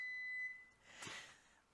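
A kitchen oven gives a steady electronic beep tone that stops about halfway through, followed by a brief clatter or rustle nearby; no one speaks.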